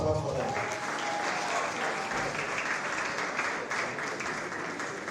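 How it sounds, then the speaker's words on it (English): An audience at a university entrepreneurship pitching competition applauds, a dense, steady wash of clapping from a full room that holds loud and even throughout, with a voice faintly over it. "A round of applause for them."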